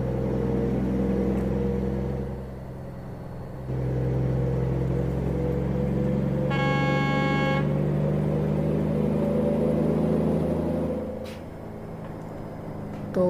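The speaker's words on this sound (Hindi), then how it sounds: "ट्रक की आवाज़ सुन रहे हैं आप, बहुत ही खतरनाक आवाज़ है इसकी।" A Kenworth K200 truck with a 525-horsepower engine in American Truck Simulator rumbles with a deep, continuous drone. It dips briefly, swells back, then eases again near the end, and a short whining tone cuts in midway.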